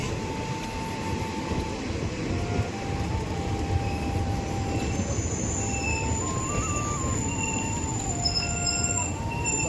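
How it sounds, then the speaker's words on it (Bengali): A local train at a station gives off a continuous low rumble and rattle of the cars, with drawn-out tonal squeals from the brakes or wheels as it slows. The sound is close and steady throughout. "দেখো ট্রেন এখন থেমে গেল গাইস"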